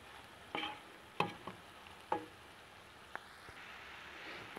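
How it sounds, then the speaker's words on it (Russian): Quiet frying of flour with onion in a pan, faint sizzling broken by several sharp scrapes and taps of a utensil stirring, no voices. "Сейчас я муку чуть-чуть обжарю."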